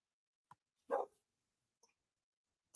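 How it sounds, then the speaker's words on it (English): A dog barks once in the distance at the place someone is staying, a short muffled bark in near silence, with a few faint clicks around it. "I don't know if you guys heard the dog in the background where I'm staying"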